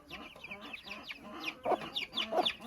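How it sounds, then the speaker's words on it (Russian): Broody mother hen clucking near her chicks in an enclosure shared with other hens, a close run of short rhythmic clucks and chirpy calls that grow louder and busier toward the end. "курица, она еще квокчет, она защищает цыплят от других кур"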